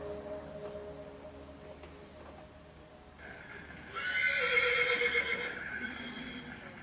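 Wild horses, stallions and mares loaded for hauling to a temporary holding facility, give a loud, shrill neigh that rises and then tapers over a low background rumble, with a softer whinny following it.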